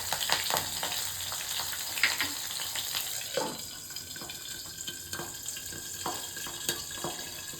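Black cumin seeds and slit green chillies hit plenty of hot oil left from frying pabda and amudi fish, producing a continuous hissing sizzle with a few sharp spits and light clinks of a utensil.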